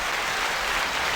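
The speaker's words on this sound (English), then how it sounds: "Is that my audience? Are those my people clapping?" An audience breaks into steady, dense clapping throughout, with no voices over it.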